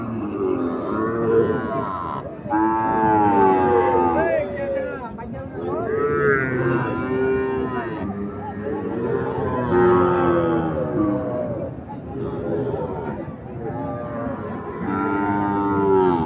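Sahiwal cattle low at the Ambari cattle market, long drawn-out moos rising and falling close by, mixed with voices in the busy market.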